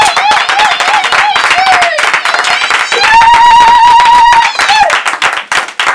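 A church congregation claps rhythmically, the hands ringing loud and close, while voices rise and sing along throughout.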